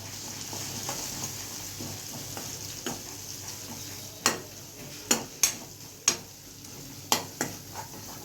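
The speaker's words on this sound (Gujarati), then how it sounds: "આ દાળ ફ્રાયનો વઘાર છે." Quiet sizzling of spices, including turmeric and coriander-cumin, in hot oil for dal tempering, punctuated by several sharp metallic clinks of a spoon against a pan in the second half.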